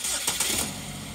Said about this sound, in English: And then the engine starts up.